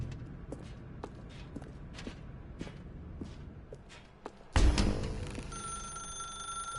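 Telephone ringing in The Stanley Parable video game, a sudden loud ring that starts partway through after quiet rhythmic footsteps and then sustains with a steady tone.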